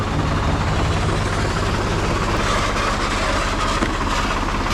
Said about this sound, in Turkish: Şu anda traktörümüz devir dayım yapıyor.